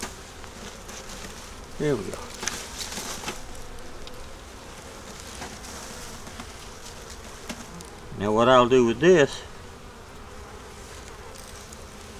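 Honey bees hum at a winter hive being fed dry sugar, a low steady drone with louder buzzing bursts as individual bees fly close, while someone talks quietly over them.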